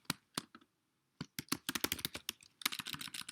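Login details are typed on a computer keyboard in close, crisp key clicks: a few isolated taps, a short pause, then a quick run of rapid typing.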